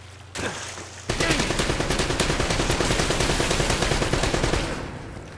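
Sustained automatic gunfire in the video game Uncharted: Drake's Fortune, a loud, rapid, continuous burst lasting several seconds before tapering off, with no talk over it.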